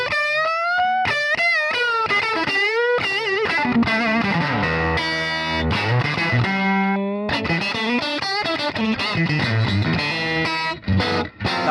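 An electric guitar played through a studio amp with a push-pull pot engaged for a treble boost, ringing bright, bitey sustained chords and melodic lines with slides and bends, loud and alone.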